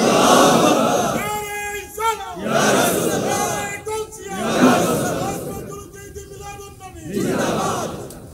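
A large crowd at a religious sermon in Chandpur roars a takbir in response, with loud massed shouting in repeated waves that alternate with a single voice leading the call.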